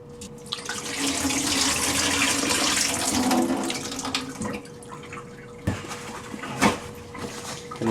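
Tap water runs into a sink and splashes over grapes being rinsed, a steady stream for several seconds before it cuts off, followed by a few brief clatters and drips.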